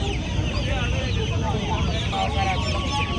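Cheeti chickens at the Mydukuru poultry market cluck and chatter in a dense, steady crowd, nearby and fairly loud, with market voices talking underneath.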